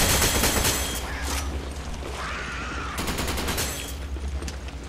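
Gunfire at a zombie in Resident Evil 5, with dense rapid shots and booms over constant loud game noise, close up throughout.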